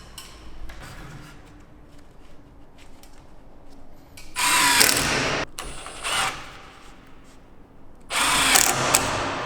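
A power drill drives a screw into timber while a wooden chalet is being assembled. Two loud, close bursts of whirring and grinding, each a second or two long, are separated by quieter handling noise.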